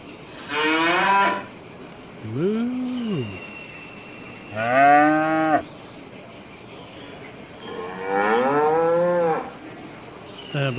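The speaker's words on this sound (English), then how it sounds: "I believe this is maybe our water buffalo." Water buffalo in Farming Simulator 25 moo in four separate calls, each a drawn-out, wavering bellow of about a second, spaced a couple of seconds apart over a steady farm ambience, with no talking.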